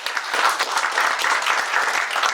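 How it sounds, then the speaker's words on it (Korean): An audience at a tooling program completion ceremony gives brief, steady applause, dense clapping that stays even throughout. "다시 한번 좋은 말씀 해주신 필기생 전문의께 큰 박수 한번 부탁드리겠습니다"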